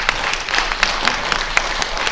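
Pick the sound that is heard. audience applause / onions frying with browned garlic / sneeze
audience applause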